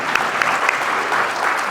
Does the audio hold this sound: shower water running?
no